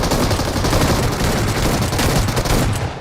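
Gunfire in the mobile battle royale game BGMI, with an S12 shotgun in play: dense, loud bursts of rapid shots overlapping continuously for about three seconds, then tapering off slightly at the end, with no talking.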